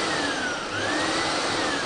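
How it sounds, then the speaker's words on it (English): A Pure i6 industrial steam and vacuum cleaner runs with a steady, loud motor whine, close and alone. "So to run the vacuum, keep the vacuum on here, and then you can use the switch on here"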